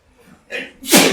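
A single sneeze bursts out loud and close during a tabletop role-playing game session, preceded by a short intake of breath.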